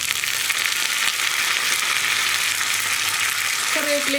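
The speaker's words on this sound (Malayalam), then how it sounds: "നമുക്കിതിലേക്ക് കറിവേപ്പില ചേർത്ത് കൊടുക്കാം." Onions fry in hot oil in a pan as curry leaves go in: a loud, even, dense sizzle throughout, with a faint tonal squeak near the end and no speech.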